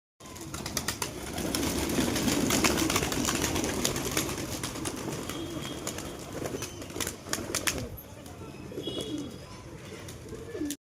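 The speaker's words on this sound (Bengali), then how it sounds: "আর উপর একটা কবুতর উঠছে" Pigeons on a rooftop give soft cooing and bird calls, with brief flutters of wings, close by over a steady outdoor background for most of the stretch.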